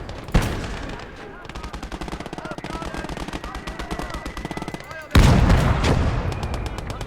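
Sustained machine-gun fire in a wartime video game, a rapid unbroken rattle of shots that stays steady and then turns much louder and denser with heavier booms near the end, with no talk over it.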